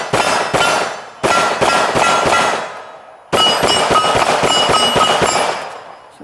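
Shots from a Sig P320 pistol fitted with a CAA MCK micro conversion kit ring out in three loud bursts, first two quick shots, then several evenly spaced rounds, then a rapid string, each with a sharp crack and bright metallic ring.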